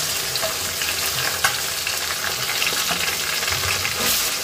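Ginger-garlic paste hits browned onions in a pan for a chicken and bottle gourd curry, giving a loud, dense sizzle with scattered stirring scrapes and a brief clink.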